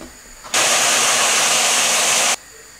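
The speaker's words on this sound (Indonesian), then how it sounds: "Dicincang pakai chopper aja." An electric food chopper grinding shallots and garlic for spice paste whirs loudly and steadily for about two seconds, starting and stopping abruptly, close up with no talking.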